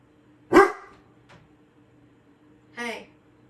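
A dog in the Farming Simulator 25 farm game lets out two sharp, fairly loud barks, separated by a pause of about two seconds, over a faint low background hum.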